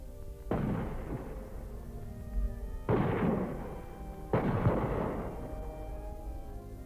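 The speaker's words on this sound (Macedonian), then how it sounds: "Градот е растресен од топовски грмеж" Cannon artillery fire shaking a town: three heavy booms, each striking suddenly and rolling off in a long rumbling decay, spaced a couple of seconds apart.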